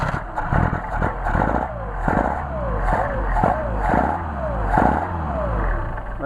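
A Mercedes 190SL engine with Solex 44PHH carburetors is blipped repeatedly to clear flooding, giving a series of short revs rising and falling in a steady rhythm, close and fairly loud.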